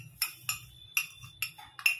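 Five sharp, bright clinks of a metal spoon against a container, spaced at an uneven rhythm, as spoonfuls of sugar go into milk for chocolate ice cream, close and fairly quiet with no talk.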